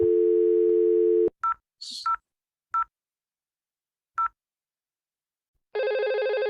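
A steady dial tone cuts off, a few short keypad beeps follow with pauses, then a buzzing telephone ringing tone begins.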